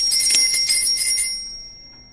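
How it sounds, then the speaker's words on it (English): A cafe door bell jingles with a few bright metallic shakes, then rings out and fades slowly, clear and close with no talking. "The bell jingled."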